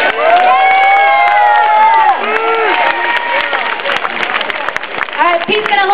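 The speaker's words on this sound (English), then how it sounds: "So give yourselves a round of applause." Fans at a Diablo 3 launch event clap and cheer in a large crowd, with whoops and shouts rising over sustained applause, loud and close, and a few voices calling out through the noise.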